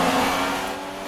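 A racing car engine in the F1 2016 video game revs hard along a straight, a loud high whine that eases off slightly near the end of the short burst.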